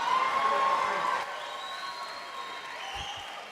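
Applause and cheering from a comedy awards audience, loud and steady at first, then easing into a softer, thinning patter of clapping.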